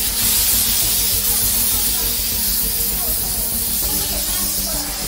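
A fire extinguisher discharges at a fire during a flight attendant emergency training exam, giving a loud, continuous, close hissing spray that fills the whole stretch.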